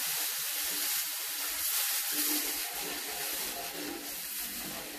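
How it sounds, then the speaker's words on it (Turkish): Water poured over roasted corn flour in a hot pan sizzles and hisses in a steady, dense rush that stays loud and even from start to finish, with no voices. "Bir buçuk su bardağı suyumuzu mısır unumuzun, kavrulmuş mısır unumuzun üstüne ekliyorum"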